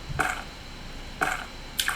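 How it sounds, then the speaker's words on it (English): Three soft splashy footsteps through shallow water in a video game, evenly spaced and close, with a wet squelching quality and no voices. "Now it's playing those different water sounds"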